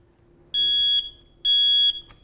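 A smoke detector's test alarm sounds two loud, piercing electronic beeps, each lasting about half a second, separated by a brief gap, with a quiet room background between and after them.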